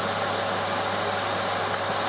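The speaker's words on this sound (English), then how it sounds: "hearing it going up the vacuum hose" A Numatic Basil NB200 vacuum cleaner runs steadily on a bedroom carpet, a constant close whooshing suction roar with a low hum as dirt is pulled up the hose, no voices.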